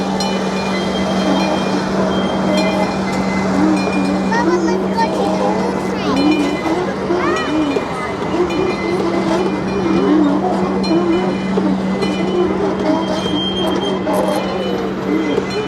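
A ride-on train at a Pennsylvania tulip garden amusement area rolls past with a continuous loud rumble and intermittent squealing wheels, while people talk over the noise throughout.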